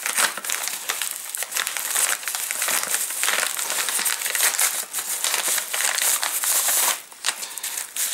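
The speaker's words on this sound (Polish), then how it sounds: "dzisiaj małe rozpakowanie takiej małej przesyłki." Parcel packaging being unwrapped, plastic foil crinkling and crumpling in close, busy bursts of rustling throughout, with brief pauses between handling.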